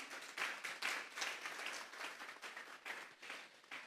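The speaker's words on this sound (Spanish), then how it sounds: "Vamos a darle un fuerte aplauso pues al Señor." A church congregation claps together during a Sunday service, a dense, steady wash of many hands with small surges, moderately loud and with no talk over it.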